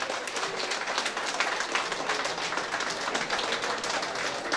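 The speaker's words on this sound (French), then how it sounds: "je veux que chacun et chacune ici félicite par des applaudissements nourris cette belle et nouvelle association" A crowd at a speech event applauds a new association, with steady, dense clapping that holds evenly throughout with no voices on top.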